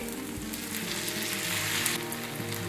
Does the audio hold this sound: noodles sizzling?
yes